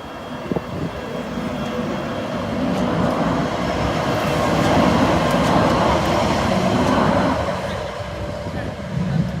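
Sheffield Supertram unit 102 running, a steady rumbling hum that swells in the middle and eases off, heard from on board with a voice talking over it.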